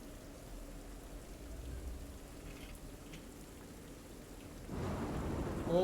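Rain falling in a video game, a soft continuous patter that swells louder near the end, with a low rumble underneath.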